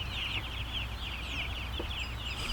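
Chickens on a farm cluck and chatter continuously at moderate distance, a busy layered flock sound over a steady low rumble of background noise.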